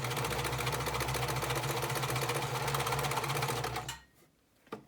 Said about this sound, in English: So my hands are really turning the fabric as I'm sewing to follow the curve.